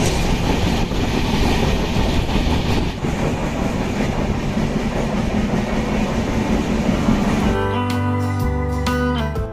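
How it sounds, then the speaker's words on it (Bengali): Ispat Express pulling out of Howrah station, a loud continuous rumble of rolling railway carriages with rhythmic wheel clatter, ending in sharper metallic clacks as it gathers pace. "আর আমাদের ট্রেন ছেড়ে দিতে দেখতে পাচ্ছেন"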